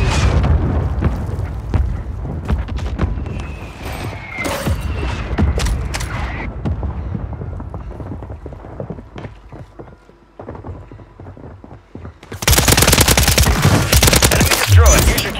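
Call of Duty combat with rapid gunfire throughout, dense clattering shots and impacts, a lull in the middle, then a loud sustained burst of heavy firing near the end.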